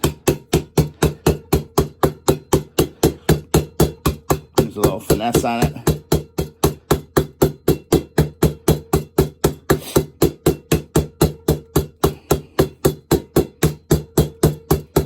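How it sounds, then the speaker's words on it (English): Fast, steady hammer blows knocking a rear sprocket into place on a vintage Honda CL350 motorcycle, dozens of evenly spaced metal strikes, close and loud, with a brief spoken remark partway through. "Don't want to pound on this thing too hard, but it should go in"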